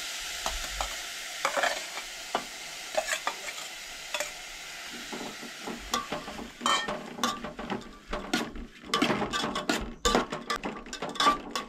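Dried prawns stirred and fried in a pan for a Goan dry prawn curry with onion and chilli, a steady sizzle under repeated scraping and clattering stirs that grow busier and louder toward the end, with no talking.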